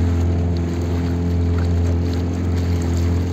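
A motorboat engine drones steadily on a dam reservoir, a constant low hum with some water and wind noise, close and even throughout, with no voices.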